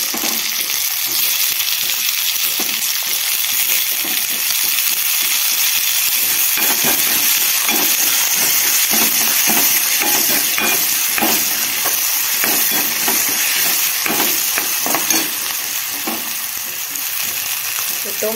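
Tomatoes frying with onions in a pan for a spicy matki curry, a loud, steady sizzle and hiss that runs throughout with occasional stirring scrapes.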